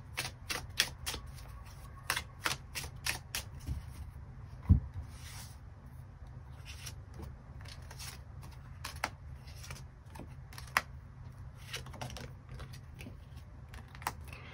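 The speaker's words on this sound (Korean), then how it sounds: "추가 카드 뽑아보도록 하겠습니다." Tarot cards are shuffled by hand to draw extra cards, a run of crisp, close riffling clicks and snaps that come in quick bursts, then thin out to sparser card taps.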